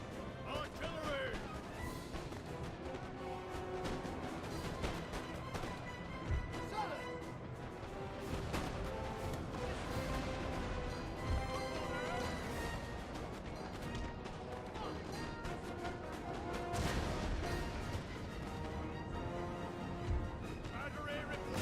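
6-pounder artillery cannon fire in the video game Napoleon Total War, booming shots scattered through dense battle noise with game music and voices over the top.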